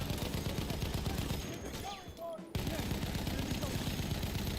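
Gunfire in Battlefield 1 multiplayer, a steady rattle of rapid shots filling the clip, briefly dropping for about a second midway before resuming at full loudness.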